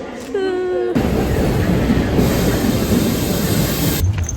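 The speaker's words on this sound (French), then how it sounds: "On vient de prendre la première partie de métro, tout va bien." Metro train ride on an underground line, a loud steady rumble and rushing roar of the moving carriage after a brief tonal whine at the start, then a drop as the noise ends.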